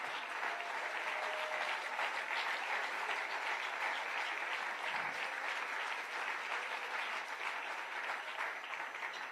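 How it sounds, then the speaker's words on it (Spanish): A church congregation applauding loudly for God, a thick, unbroken roar of clapping from many people that holds steady throughout, fairly distant and diffuse with no talking on top. "Si ese aplauso es para Dios, de lo más fuerte"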